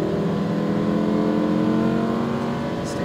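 A Lamborghini Huracan engine at full throttle on a track, a loud steady roar held close throughout.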